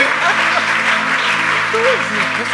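A church audience at a prophetic gathering breaks into loud, sustained applause, dense clapping filling the room, with voices calling out and talking beneath it.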